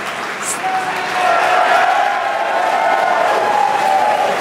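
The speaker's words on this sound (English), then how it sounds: "Very exciting day, as you can hear the crowd behind me." At a SpaceX Dragon launch, a crowd cheers and applauds in a steady roar a short distance off, swelling slightly after the first second and holding at a moderate level.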